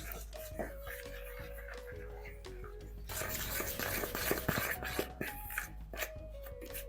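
Gulab jamun dough ingredients are mixed by hand, giving soft, quiet rubbing and stirring scrapes that grow busier and more rhythmic partway through, with a faint voice in the background.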